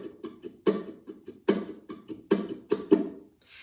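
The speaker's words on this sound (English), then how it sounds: "Those X's indicate muting strums and they sound like this." Muted strums on a ukulele, the fretting hand damping the strings, giving a steady rhythmic pattern of dull percussive chucks with stronger accented hits, close and fairly quiet.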